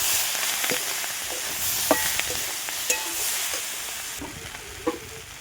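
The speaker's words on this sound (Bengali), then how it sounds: "এবার একটু ভেজে নেব" Food crackles and sizzles in a hot pan, with a soft continuous hiss and a few occasional clinks of a spoon against the pan.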